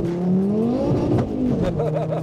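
A modified 670bhp Ford Focus RS accelerates hard, its engine note climbing steadily through the revs, loud and close, then dropping briefly at a gear change before pulling again with crackling overrun.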